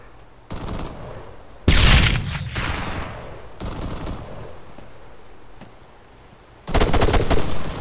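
Gunfire in the military shooter Arma 3: loud bursts of automatic fire and single shots, some close and harsh, others duller and farther off, with a fresh intense volley near the end.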